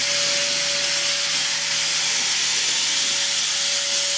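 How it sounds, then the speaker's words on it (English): Compressed air leaks loudly and steadily from an air turbine spindle nozzle on a Haas CNC machine, a constant close hiss with a faint tonal hum underneath. "Right now you can hear a lot of air leaking right here."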